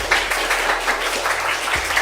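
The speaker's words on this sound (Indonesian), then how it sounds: "Tepuk tangan dulu buat semuanya." Children clapping together in a classroom, a steady, moderately loud patter of many small hands lasting the whole moment with no talking.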